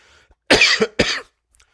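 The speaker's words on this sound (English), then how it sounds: "Wildfire cough. Lovely." Two sharp, loud coughs in quick succession from a cough caused by wildfire smoke, close by, with near silence before and after.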